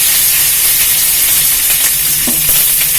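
Loud, steady sizzling of chopped onions frying in hot oil, a continuous bright hiss with faint stirring clatter.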